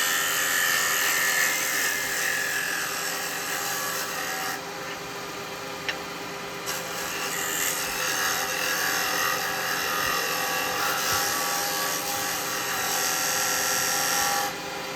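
Carbide chisel making a push cut on a wood lathe, a steady continuous scraping, rasping hiss of the cutter on spinning wood, fairly loud and close, with a brief dip in intensity partway through and no talk.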